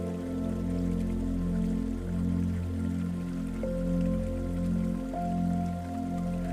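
Hill stream and waterfall rushing among wet rocks in a rainforest, a steady, full wash of water with a gently pulsing low roar and a faint thin tone entering partway through.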